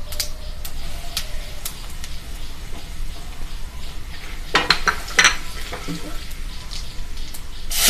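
Panch phoron and dry spices sizzle in hot oil while making doi potol, a steady frying hiss with scattered clinks of a spoon against the pan that grow busier toward the end.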